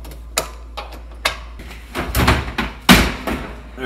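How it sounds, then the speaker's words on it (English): A Frigidaire oven door is lifted off its hinges, giving a string of close clunks, knocks and metallic rattles, with a heavier thud near the end. "first thing we're gonna do is take these doors off"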